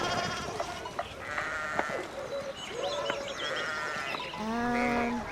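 Several sheep bleat over a busy farmyard backdrop in the video game Pentiment, overlapping calls rising and falling, fairly close and loud with no talking.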